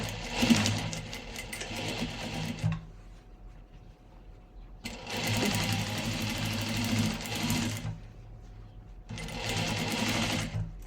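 An electric sewing machine stitches thread in three bursts of steady whirring, close and clear, separated by short quiet pauses.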